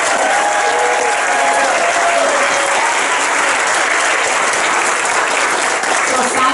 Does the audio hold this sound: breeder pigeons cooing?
no